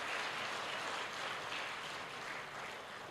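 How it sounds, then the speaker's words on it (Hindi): An audience at a live talk in Ranchi claps steadily, a dense, even wash of many hands at moderate distance that holds throughout without pause or any voice over it. "अरे देखो भैया, ताली तो ठीक से बजाओ"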